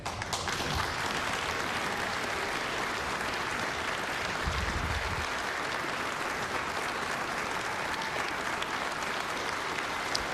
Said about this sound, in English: massive, massive, massive applause line to increase teacher pay